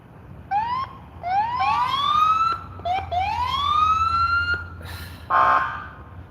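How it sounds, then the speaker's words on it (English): Short police siren whoops during a police chase rise in pitch again and again, several overlapping, with a brief electronic horn blast near the end. "They're all just randomly hitting their sirens."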